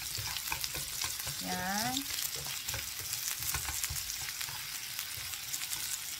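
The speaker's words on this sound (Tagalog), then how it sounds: "Gisa nyo yung sibuyas guys." Onions sizzle and crackle as they are sautéed in a pan for Japanese ebi donburi, a busy close frying hiss with utensil scrapes, while a person briefly speaks over it.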